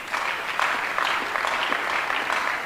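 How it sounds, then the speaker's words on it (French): A church congregation claps loudly and steadily, a dense wash of applause filling the room throughout with no voices rising above it. "Est-ce qu'on peut acclamer la parole de Dieu?"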